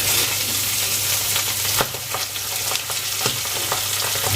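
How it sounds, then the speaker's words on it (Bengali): Pabda fish sizzles in hot oil in a pan, a steady crackling fry broken by sharp spatters and scraping clicks as the pieces are turned over, with no talking. "মাছের একটা সাইড ভাজা হয়ে গেছে, এবার উল্টে দিচ্ছি অন্য সাইডটা ভেজে নেওয়ার জন্য।"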